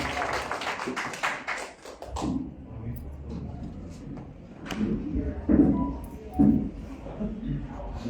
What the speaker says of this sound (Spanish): Vamos a recibir un fuerte aplauso al licenciado Rafael Romero Vázquez